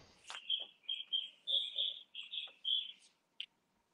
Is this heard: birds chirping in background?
yes